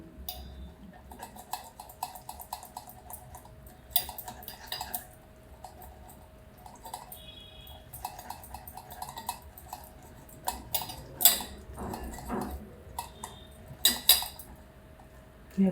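Mango pulp pressed through a metal puran strainer, with repeated metallic scraping, tapping and clinking of utensil against mesh, close and intermittent, louder toward the end.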